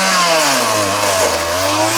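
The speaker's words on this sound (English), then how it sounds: "Cutting a window out of the side of the tree so that he can get at the" A chainsaw cuts a window into the side of a large storm-damaged tree to reach a beehive's brood, the engine loud and close, droning steadily with slight shifts in pitch.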